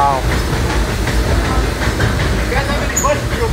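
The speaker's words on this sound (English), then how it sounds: "now we have a locomotive called the E.P. Ripley, which is named after Ripley Park." Disneyland's E.P. Ripley steam locomotive rolls along its rails in a steady, loud wash of rumble and hiss, with faint clickety-clack and a brief high squeal near the end.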